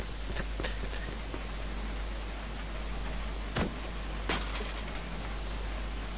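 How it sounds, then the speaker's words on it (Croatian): Rain falling in the video game Mafia II, a steady soft hiss of rainfall with a couple of brief sharper splashes, even and fairly quiet throughout, no talking. "još i kiša"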